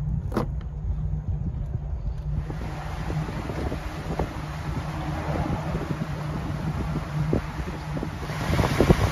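Steady, loud wind roars across the microphone throughout, with a constant low rumble and no voices.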